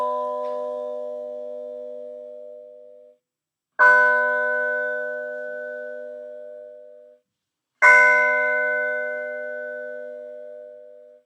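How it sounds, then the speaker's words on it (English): A synthesized gong-like tone built from added partials sounds three times in succession, each strike ringing and slowly decaying over about three seconds, the later strikes brighter than the first. "So obviously that was a gong."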